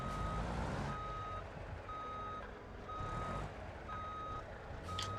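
A delivery truck reversing in the BeamNG driving game gives five steady, evenly spaced backup beeps about one second apart over a loud, constant engine rumble, with no talk.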